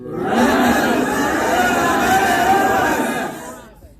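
A large crowd shouts together in a loud, sustained roar of many voices in a Passion of Christ scene, holding for several seconds before fading out.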